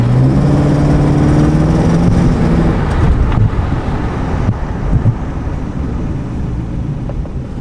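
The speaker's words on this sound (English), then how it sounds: "I just got back on my test drive with the Charger" A 250,000-mile Dodge Charger R/T drives on a road, its steady engine and tire rumble loud and continuous, with a low drone that fades slightly as the ride goes on.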